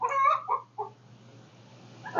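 Backyard hens from a small homestead flock of olive eggers, an Easter egger and Ameraucanas cluck in a few short bursts, with a quiet stretch in the middle and a louder close call at the end.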